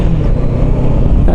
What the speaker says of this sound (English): That car was coming.